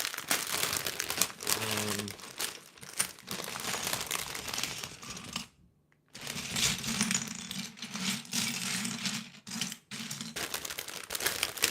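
Plastic parts bags from an older Lego set crinkle and rustle close by, with bursts of crackling handling, a short pause, and small pieces clicking and rattling inside.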